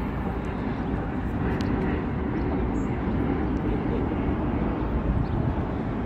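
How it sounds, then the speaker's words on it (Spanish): A steady, broad roar of jet aircraft flying overhead in Washington fills the air throughout, loud and continuous, with a faint breeze over it. "Se puede apreciar los aviones."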